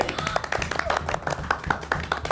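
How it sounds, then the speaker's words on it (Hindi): Several people clapping indoors at home, a quick run of bright, uneven hand claps close by, with voices faintly underneath. "तुम लोग किस बात की तालियां बजा रहे हो?"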